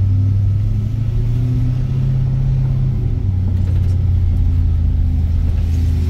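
A 1978 Dodge D150 Adventurer pickup with a 440 Magnum V8 idles steadily, its low rumbling drone loud and close, with a slight shift in pitch partway through.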